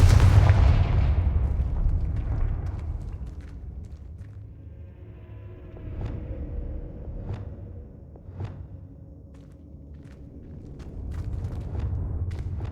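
Spell explosions from the Confringo fire-blast spell in the Hogwarts Legacy video game: a loud booming blast at the start, then scattered sharp bangs and thuds over a low rumbling game ambience, with no voices.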